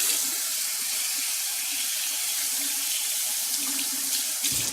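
Tap water runs steadily into a kitchen sink to rinse an ice cream scoop, a continuous close hiss and splash that holds level throughout, with no voices.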